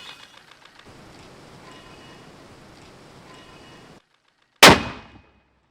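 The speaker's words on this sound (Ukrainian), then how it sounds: "Постріл!" A single loud gunshot on a front line near Horlivka cracks out after several seconds of steady rain-like noise and a short silence, then rings off quickly.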